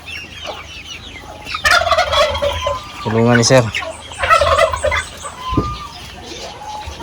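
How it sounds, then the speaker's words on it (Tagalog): A turkey lets out a loud rapid gobble in the middle, with other fowl clucking and calling nearby and a brief spoken voice in the background. "So, may pabo nga rin dito"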